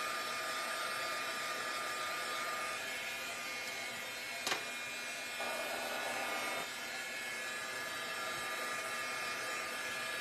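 A hair dryer blows steadily on the back of a flipped-over item, a continuous loud whooshing hum that shifts slightly in pitch as it moves, with a brief clunk partway through.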